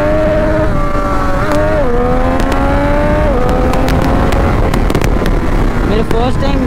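A Triumph Street Triple 765R motorcycle accelerates hard on the road, its engine note climbing steadily through gear changes with sharp pops, loud and continuous under steady wind noise.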